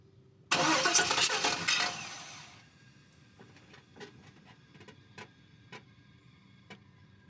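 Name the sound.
truck engine cranking over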